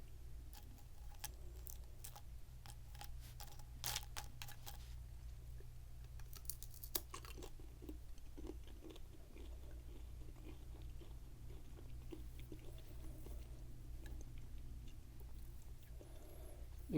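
Dehydrated apple snack chewed close up, a quiet run of soft crunches and wet chewing clicks, busier early on and then sparser, with no talking over a low steady hum.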